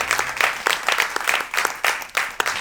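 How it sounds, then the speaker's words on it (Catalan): Strong audience applause at a literary book-tour event in Mollerussa, a dense wash of claps with sharper bursts swelling throughout, close and loud with no talk. "un aplaudiment ben fort per Francesc Canosa"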